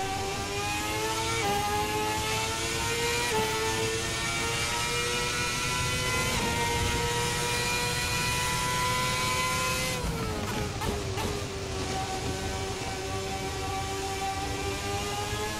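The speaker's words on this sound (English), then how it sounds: "Go down the straight. We'll bring it up to full revs." A Formula 2010 V8 race car engine in a racing sim screams at high revs, a loud, sustained harmonic whine rising and shifting pitch with brief gear-change dips near the end, heard alone up close.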